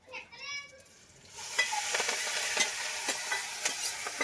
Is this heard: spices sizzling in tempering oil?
yes